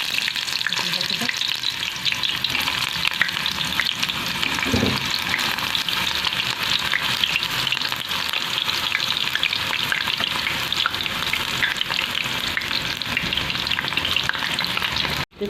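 Eggplant fries in a pan of oil for a simple Egyptian breakfast, a loud, dense, continuous crackling sizzle that holds steady throughout, with a brief thump near the start and a sudden stop at the very end.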